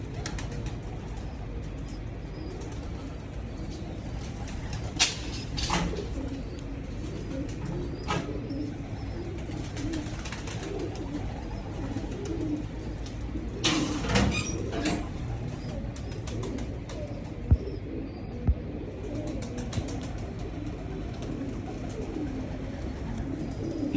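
Ringed pigeons in a fancier's loft in Qasoor coo softly and repeatedly at a moderate distance, with occasional wing flutters against a quiet background.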